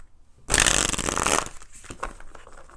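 Tarot cards riffle-shuffled in a single loud, crisp burst of rapid flutter lasting about a second, followed by softer tapping and handling sounds.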